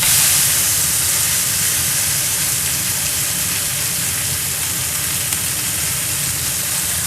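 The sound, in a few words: steak with peppercorns searing in a cast iron pan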